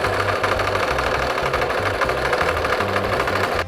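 Close, loud sewing machine edge-stitching the hem of a pillowcase apron, a rapid even rhythmic chatter of needle strokes that holds steady throughout.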